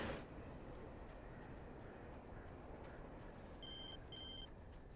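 In the video game Alan Wake, a telephone rings faintly twice in quick bursts near the end, under a steady rushing background noise.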